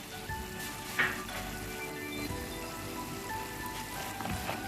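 Chilli pepper crab sautéing in a pan with a quiet, steady sizzle and faint crackle, with a single brief clink near the start.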